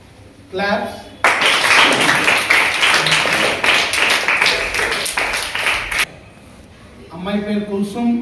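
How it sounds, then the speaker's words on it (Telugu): An audience at a school self-defence training camp bursts into sustained, loud applause for a student, many hands clapping together for about five seconds, with talk before and after. "క్లాప్స్."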